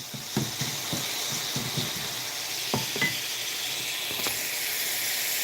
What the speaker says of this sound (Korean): 지금 파스타 요리하려고 지금 재료를 이렇게 준비한 거를 이렇게 볶고 있습니다